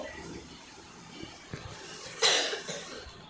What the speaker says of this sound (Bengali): আমার এমনি কাশি, তাই জন্য একটু কাশি।